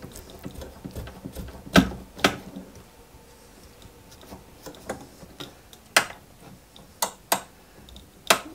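A small screw driven into a 1/8-scale Citroën 2CV AZLP model kit: faint, irregular ticking and clicking of a screwdriver, with a few sharper clicks spaced out over a quiet background.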